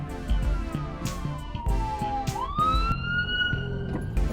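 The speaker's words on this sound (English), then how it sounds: "Ambulance." An ambulance siren sweeps down and then back up in a wailing tone, moderately loud over a busy background of other sounds.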